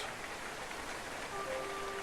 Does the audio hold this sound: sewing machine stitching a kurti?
no